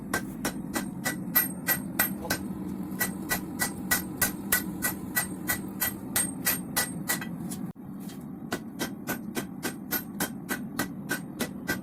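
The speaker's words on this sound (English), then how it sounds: "I got my brother to help me in the exhausting task of forging out the Damascus." Steady, evenly spaced hammer blows ring out on a hot Damascus steel billet during hand forging, dozens of sharp metallic strikes in a brisk rhythm close to the anvil, with no talking.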